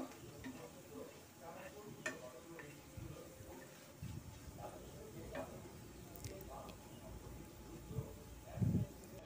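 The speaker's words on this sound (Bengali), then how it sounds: "এবার নেড়ে নিচ্ছি" Panch phoron or fenugreek seed tempering being stirred in a pan for mango dal makes a soft, low sizzle with irregular scraping and light ticking clicks of the spoon, fairly faint and close, with a brief louder clatter near the end.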